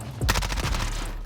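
Rapid gunfire from the Warzone video game, a sustained loud burst of automatic shots with dense, continuous reports and no talking.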